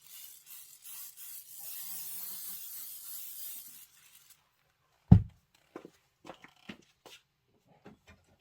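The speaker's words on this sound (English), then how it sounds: "now we're going to spray them, and they're ready to go" Finished embroidered quilt blocks get a steady hissing spray for several seconds, followed by a sharp knock and scattered light handling clicks in a quiet room.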